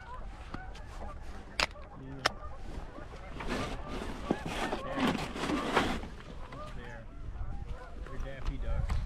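Ducks of an unidentified kind call with honks and quacks on a shallow lake during spring migration, scattered calls near and far under intermittent talk from paddlers.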